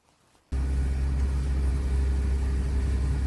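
A BMW E36 drift car engine bursts into a loud, steady low rumble after a half-second of near silence, droning on with no talk over it.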